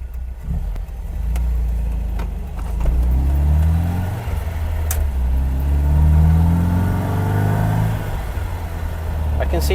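A 1979 MGB GT classic car's engine accelerating on the road, its note climbing in repeated rising sweeps as it pulls through the gears, heard from inside the cabin over a steady road rumble.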